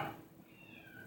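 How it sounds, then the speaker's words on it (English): Domestic cat meowing indoors, a short, fairly faint cry near the start that trails off into a quiet room. "Never mind that cat."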